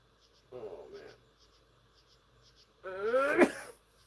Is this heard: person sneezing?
yes